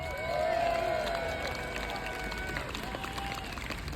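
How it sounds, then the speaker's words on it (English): A large outdoor crowd at a No Kings protest rally in Gainesville gives sustained applause: a dense, steady roar of clapping mixed with whoops and cheering voices that holds for the whole stretch. "Give yourselves a round of applause"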